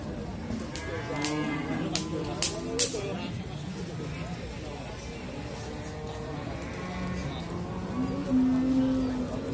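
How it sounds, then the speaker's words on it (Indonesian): Cattle lowing and mooing at close range at the Muntilan livestock market in Magelang, amid a busy crowd, with people talking, hooves shuffling and scattered knocks around them. "di sebelah sini juga ada sapi-sapi betina"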